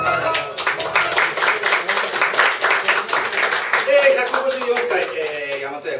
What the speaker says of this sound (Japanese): 指パッチンではなくて拍手でお迎えしましょう